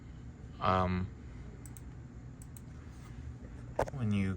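Sparse, light computer keyboard clicks come in small groups, set between stretches of a person talking.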